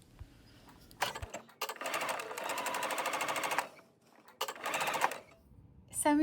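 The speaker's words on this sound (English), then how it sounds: "I know I'm going to sew down 3 inches on my red lines." A sewing machine stitches down skirt pleats in two bursts of rapid, even whirring, with clicks and handling noises between runs and a voice talking faintly.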